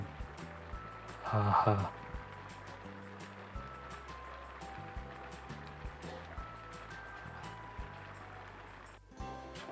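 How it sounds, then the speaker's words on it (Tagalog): Goat kaldereta stew simmers in a pot with soft continuous bubbling, while people talk nearby and a short burst of laughter rises early on. "It's already simmering."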